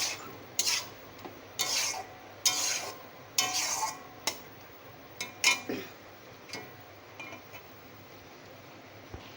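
Kalmi greens with a little water are stirred in a pan, a series of scraping, rubbing strokes in an uneven rhythm, close and moderately loud with no voices.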